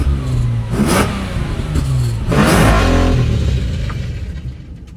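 A struggling car with a blown engine revs unevenly in close surges, with broad rough bursts swelling and easing over a steady low drone throughout.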